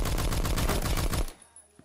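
Rapid automatic gunfire from the video game Phantom Forces, a loud burst of about ten evenly spaced shots that stops abruptly, followed by faint game noise.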